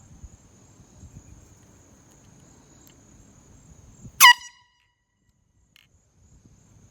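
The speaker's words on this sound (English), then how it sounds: "today I'm blasting my air horn again." Air horn blasting once from a distance outdoors, a brief loud harsh burst of about a quarter second that stands out against faint crickets and low background noise, then near silence.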